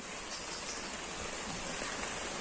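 Steady rain falling outside on a farm in the Satpuda forest, an even moderate hiss throughout with a small bump at the very end.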